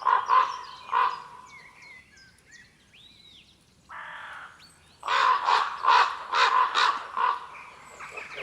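Several crows caw in loud, harsh bursts at the start, fall quiet for a while with brief squawks in between, then return in a steady run of repeated caws near the end.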